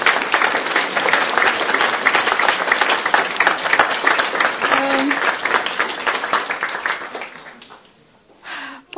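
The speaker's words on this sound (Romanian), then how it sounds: "dacă poate așa niște aplauze doar pentru echipă" An audience at the winners' ceremony of the international design competition for Piața Victor applauds the architecture team in dense, sustained clapping that thins out and fades. A voice begins speaking after the clapping stops.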